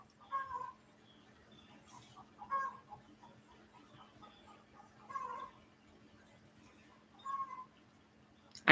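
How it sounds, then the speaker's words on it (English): Chickens call out in the morning in four separate, spaced bursts of clucking and squawking, faint to moderate, over a quiet steady hum from a pool filter. "or let you listen to my chickens."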